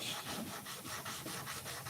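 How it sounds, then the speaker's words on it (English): Hand sanding of wood in a blade-making workshop, a soft, close rasping scrape repeated in a steady back-and-forth rhythm of about four strokes per second, faint and alone. "I'm going to do some hand sanding"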